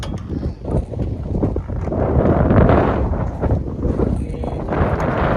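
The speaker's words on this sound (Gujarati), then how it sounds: "પવને બહુ છે" Strong wind buffets the microphone in loud, rumbling gusts that roar continuously and rise and fall, on the coast at Nikol village, Mahuva.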